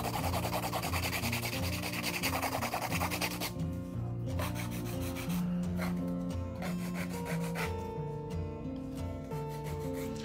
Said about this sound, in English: I'm gonna do a hand file